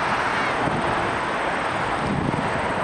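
Hainan Airlines airliner on approach to Toronto Pearson, a steady broadband roar of jet engine noise mixed with gusting wind on the microphone, continuous and fairly loud throughout.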